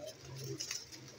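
Pigeons at a pet bird shop on Jamia Masjid Road in Rawalpindi, including a green-necked pigeon, give soft low coos among faint rustling and fluttering, quiet and somewhat distant.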